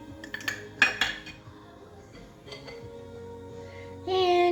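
A spoon clinks and scrapes against a bowl while cocoa is mixed into gluten-free chocolate cake batter, a few sharp taps at the start, then quieter stirring.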